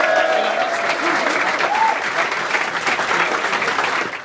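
Crowd at a rap battle event claps and cheers in sustained, loud applause, a dense steady wash that tapers slightly at the end, with a brief raised voice early on.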